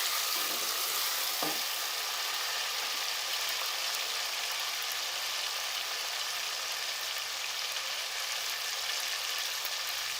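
Bay leaf, cut in two, frying in hot oil in a pan for chicken and moong dal curry, a steady close sizzling hiss with a few soft stirring knocks early on, no talking.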